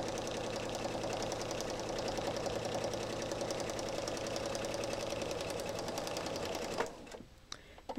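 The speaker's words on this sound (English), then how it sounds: "And I'm going to start sewing. Sewing on the straight line." A sewing machine runs continuously, stitching a straight quilt seam at a 2.0 stitch length with a fast, even mechanical chatter up close, then stops abruptly near the end.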